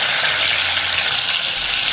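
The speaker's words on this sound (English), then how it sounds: "Now we will fry the fish, so I'm using mustard oil." Fish pieces fry in hot mustard oil, a dense, steady sizzle that hisses loudly and evenly up close for a short stretch, with no voices.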